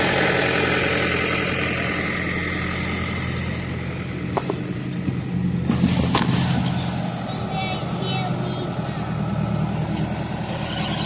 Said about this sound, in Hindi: ये दोबारा हम ट्रैक्टर पे बैठ गए।